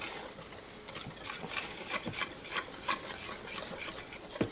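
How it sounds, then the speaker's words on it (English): A whisk scrapes and clatters rapidly against a bowl while mixing batter with a small amount of wet ingredients, a steady, close, busy metallic stirring with no voices. "when you use a whisk, the whisk does it better"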